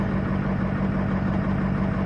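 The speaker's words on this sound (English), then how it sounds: "But the truck runs good." A Ford truck engine idles steadily with a continuous low rumble and an even, unbroken drone, close and alone, with no voices over it.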